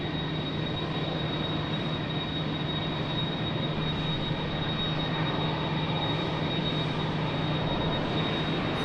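A Ryanair Boeing 737 at Lisbon Airport produces a continuous broad jet engine roar with a steady whine, loud and unchanging, with no voices.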